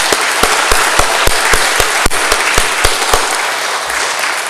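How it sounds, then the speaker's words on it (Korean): A church congregation applauds its women members, steady dense clapping filling the room with a few sharper individual claps standing out, loud and continuous with no talking. "박수 한번 하겠습니다."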